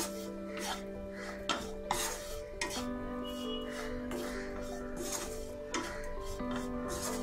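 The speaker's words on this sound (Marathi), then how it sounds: "चपाती घालूया, मीठ, मिक्स करूया" Chapati chivda is stirred with salt in a pan, producing soft, repeated scraping and rubbing strokes of a spoon against the pan at an unhurried pace, quiet and close.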